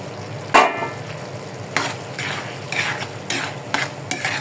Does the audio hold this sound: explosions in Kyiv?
no